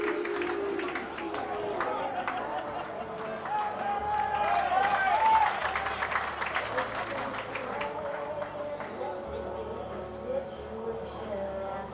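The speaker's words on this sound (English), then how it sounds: "Deserved applause for Argyle as they go off" Football crowd applauding Plymouth Argyle as they leave the pitch at half-time in a 1997/98 match against Wrexham AFC, a broad wash of clapping and cheering from the stands under a commentator's voice.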